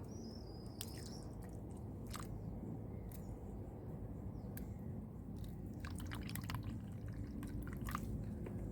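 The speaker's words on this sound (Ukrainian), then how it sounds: "наливаємо пива." Beer is poured into a small container set into garden soil as a slug trap, producing faint, soft liquid trickling and dripping sounds close by.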